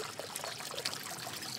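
Water streams steadily from a street drinking fountain in Rome, a continuous close splashing trickle of fresh aqueduct water, with no pauses.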